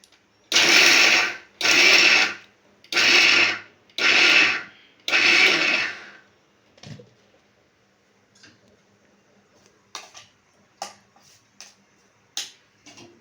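A mixer grinder runs in five loud bursts, grinding chana dal with masala for vada, each whirring pulse lasting about a second with short gaps, followed by quiet clicks and small knocks.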